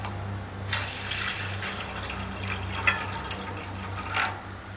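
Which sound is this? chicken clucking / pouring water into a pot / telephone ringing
pouring water into a pot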